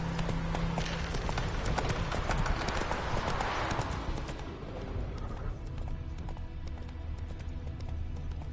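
A horse's hooves clip-clop steadily at a brisk pace in The Witcher 3: Wild Hunt, loud and continuous over low background game ambience.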